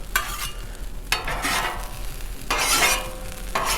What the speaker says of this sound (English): Try and scrape that bottom